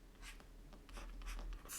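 Pen scratching on paper while a maths problem is worked out, a faint, short run of quick strokes and scribbles, quiet and close.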